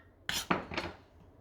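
A spoon dragging through thick custard in a cooking pan, three quick scraping strokes with a soft metallic clink, close and quiet with no talk.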